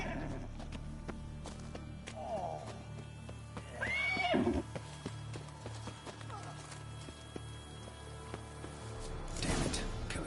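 A horse in The Witcher 3 neighs twice with a rising whinny amid moving hoofbeats and ambient game sound, the calls standing out clearly over a steady background.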